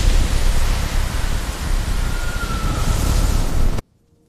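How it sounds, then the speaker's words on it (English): Thunder strike over a dungeon at night in an animated fantasy short: a loud, broad rumbling roar sustained for nearly four seconds before cutting abruptly to silence. "The thunder struck the dungeon that night."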